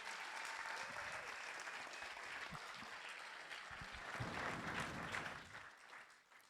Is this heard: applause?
yes